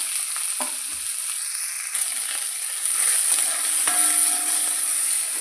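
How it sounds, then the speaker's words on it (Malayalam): Shallots, chillies and curry leaves hit hot oil with popped mustard seeds for a mushroom roast, giving a steady, close sizzle that grows louder partway through, with faint scraping from stirring in the pan. "ഇനി ഉള്ളിയും മുളകും കറിവേപ്പിലയും അരിഞ്ഞ് വെച്ചത് ഇട്ട് കൊടുക്കാം."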